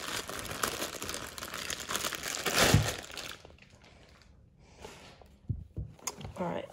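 Plastic packaging from an Astro A20 wireless headset crinkles and crackles loudly in bursts up close, then quiets to sparse rustles while a person talks.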